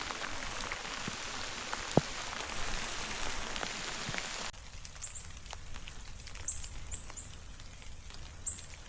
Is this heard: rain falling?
yes